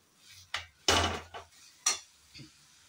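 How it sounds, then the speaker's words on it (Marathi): A spoon stirs grated fresh coconut and jaggery in a pan, giving a few soft, irregular scrapes and clinks, quiet and close, with no talking. "गूळ घालून चांगलं 5 मिनिटं फक्त ह्याच्यात मिक्स करून घ्यायचं आहे"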